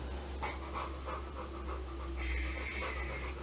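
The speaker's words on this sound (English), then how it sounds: "Stop breathing so heavy." A dog pants heavily and rapidly up close, steady rhythmic breaths throughout with a brief higher whine-like tone partway through.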